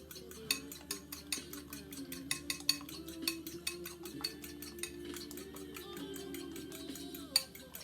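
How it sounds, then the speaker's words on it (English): Three large eggs whisked hard in a bowl with a fork, giving a steady run of quick, close clinking taps against the bowl's side over a low background hum, with no talking. "So what I like to do is go ahead and beat those eggs real good."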